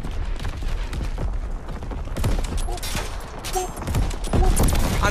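Gunfire from a Type 38 rifle in Call of Duty WW2 mixes with other in-game shots, sharp repeated cracks over a busy battle background, with a player talking over it.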